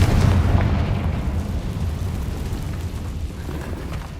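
A Confringo fire spell explodes in Hogwarts Legacy, a loud booming burst that opens strongly and then rumbles and decays over several seconds, with no talking.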